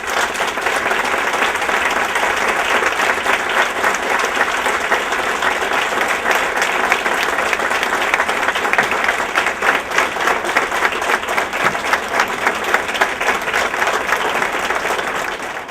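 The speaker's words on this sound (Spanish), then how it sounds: "Yo pido un aplauso para las madres." Sustained audience applause at a public talk on press and human rights in Argentina, a dense, even wash of many hands clapping that holds steady and loud throughout with no pauses.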